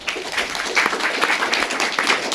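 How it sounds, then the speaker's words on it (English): An audience at an evening talk applauds the speakers, a dense, steady burst of clapping from many hands in a room. "so give them a round of applause."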